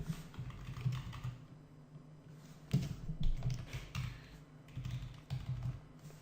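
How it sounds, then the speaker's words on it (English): Typing PHP and MySQL code on a computer keyboard, with fast irregular key clacks in bursts and brief pauses, close and moderately loud throughout. "So now down here, I'm going to type if condition"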